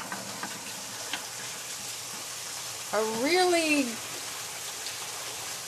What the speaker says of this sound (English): this is one of the leftover bands of rain